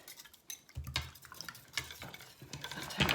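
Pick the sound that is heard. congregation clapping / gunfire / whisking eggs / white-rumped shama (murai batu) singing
whisking eggs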